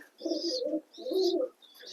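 Domestic pigeons coo at close range in a loft, three soft, rounded, throaty phrases in slow succession with short pauses between them.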